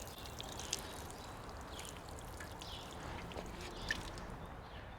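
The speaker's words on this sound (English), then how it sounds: "I'm going to wash off some extra soil here from this rim." Water running steadily over the rim of a handmade garden pot to wash away soil, a constant close splashing wash with a couple of faint clinks.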